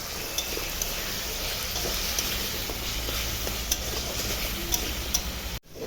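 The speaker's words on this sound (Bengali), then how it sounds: "লবণ দিয়ে আলুটা ভেজে উঠিয়ে নিচ্ছি।" Salted potatoes frying in oil with a constant crackling sizzle, occasional light ticks and scrapes of stirring, ending in a sudden brief cut.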